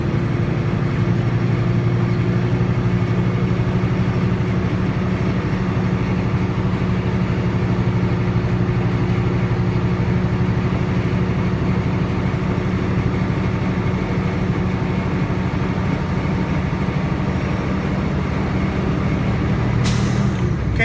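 A truck engine held at raised revs to fill the air brake tanks, a steady loud droning hum running unbroken throughout, with a short hiss near the end.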